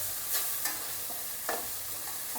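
Tomatoes with salt sizzle softly in a pan for rajma masala, a steady low frying hiss broken by a few sharp scrapes and clicks of stirring.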